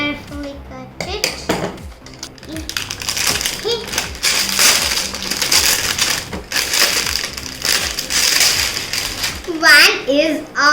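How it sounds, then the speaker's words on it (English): Crinkling and tearing of plastic packaging being unwrapped and cut open around Diya LED string lights, heard close and fairly loud under a child's chatter and other voices throughout. "I'm going to unwrap this, friends. Carefully cut it."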